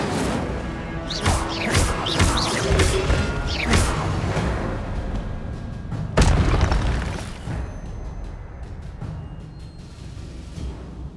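The Incendio fire spell in Hogwarts Legacy erupts with loud booming whooshes and crackling blasts, layered over game sounds and followed by a fading rumble.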